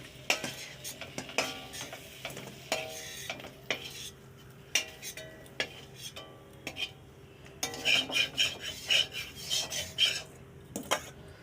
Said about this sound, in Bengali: পটল ভাজা হয়ে গিয়েছে, পটল ভাজাটা তুলে নেব।